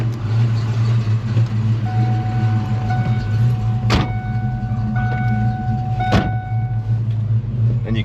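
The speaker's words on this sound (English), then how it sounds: "We're gonna go take it for a spin real quick." A car out on a test drive, with steady engine and road rumble running loud and continuous throughout and two sharp knocks partway through.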